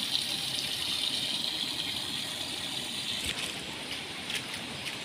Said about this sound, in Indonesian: Ini ada pancuran.